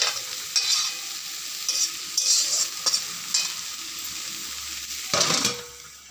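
Greens cooking in a pan with salt and turmeric, with a steady soft sizzle broken by repeated bursts of stirring scrapes and a louder clatter near the end; no voices.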